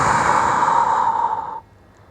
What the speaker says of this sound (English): Long big breath out.